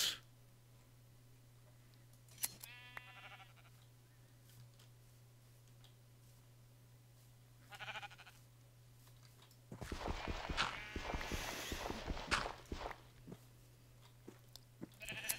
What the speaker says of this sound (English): Skio found enough sheep for a lot